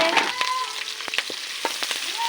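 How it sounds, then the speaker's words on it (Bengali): Onion and green chili fry in oil in a large pot, a continuous close sizzle broken by repeated sharp clanks and scrapes of a stirring spoon. "এই পেঁয়াজ আর মরিচটা এখন ভেজে নেওয়া হবে ভালো করে"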